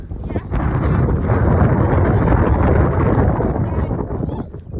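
Strong wind buffeting the microphone on a hilltop overlooking a village and lake, a loud, roaring rush that swells and holds steady before easing off at the end.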